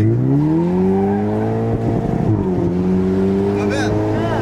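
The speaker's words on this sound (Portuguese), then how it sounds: "se eu segurar acelerando a primeira" A car engine revs hard and accelerates while held in first gear, a loud, sustained, rising drone with a brief dip midway; someone speaks over it.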